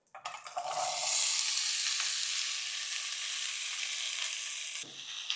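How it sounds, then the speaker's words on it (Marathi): Carrots drop into hot ghee and burst into a loud, steady, hissing sizzle that holds for several seconds before a brief stir clatter near the end. "गाजर तुपामध्ये 2-3 मिनिटं परतूया."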